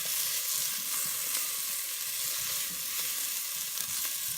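Onions frying in a pan with shrimp and sausage for a Southern okra and tomatoes dish, giving a steady, close, dense sizzle that runs evenly throughout with no talking.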